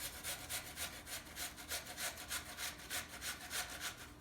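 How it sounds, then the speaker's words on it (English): An onion is rubbed against a kitchen grater in quick, regular strokes, about four per second, each a close, raspy scrape with no talking. "We're going to grate that."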